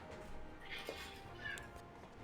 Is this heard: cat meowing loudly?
yes